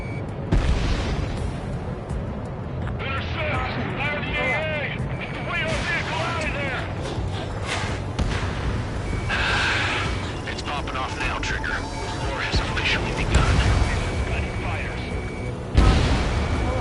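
Missile explosions tear through a target in the combat flight game Ace Combat 7, heavy booms and rumbling blasts rolling over continuous jet and battle noise, with a voice talking over parts of it.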